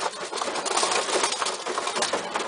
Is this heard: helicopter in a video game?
no